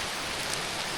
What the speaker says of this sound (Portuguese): Que chuva!